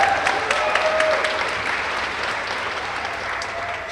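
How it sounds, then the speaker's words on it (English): Audience applause honours a senior clinician at a clinic induction ceremony, steady dense clapping from a sizable crowd that holds fairly level for about four seconds with a faint tonal sound over it. "She is definitely worth some applause"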